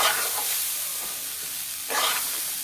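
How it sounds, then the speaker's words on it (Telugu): Moong dal frying in hot oil, a dense continuous sizzle with a brief stirring swell near the end. "పెసరపప్పు అనేది కూడా ఆయిల్లో వేగనివ్వాలి"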